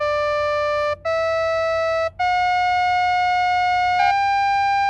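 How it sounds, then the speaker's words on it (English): A pure synthesized tone steps up a scale built on neutral intervals between major and minor, with four sustained notes separated by brief gaps, steady and loud with no voices. "it sounds like a cross between major and minor, because, you have these neutral intervals at steps"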